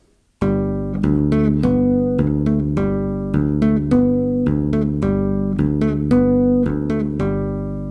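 Tapped bass guitar plays a looping melody and bass line in a dotted quarter and eighth note rhythm, each note struck cleanly and ringing, with low and higher notes sounded together at times.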